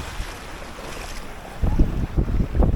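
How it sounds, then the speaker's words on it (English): Gusty wind buffets a Caribbean beach, a steady rushing roar that swells into louder blasts near the end, with no voices. "It's a little bit windy."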